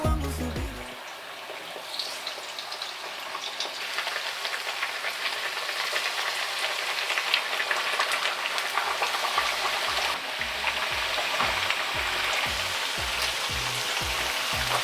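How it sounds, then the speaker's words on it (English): Beetroot-juice bhajias crackle and sizzle steadily in hot oil, a dense, continuous frying hiss that swells slightly as more pieces go in, with no talking over it. "take them from here into the oil"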